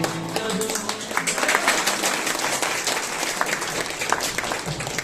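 Audience applause at a birthday celebration after a song, a dense, steady round of clapping from a crowd, fairly loud and continuous for several seconds with little else heard.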